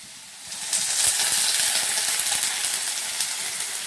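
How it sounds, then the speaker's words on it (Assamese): Water poured into a hot pan of boiled potatoes with turmeric, a sudden rising hiss and sizzle that settles into a steady, close bubbling, with no voices. "এতিয়া আমি ইয়াত অকণমান পানী দিম।"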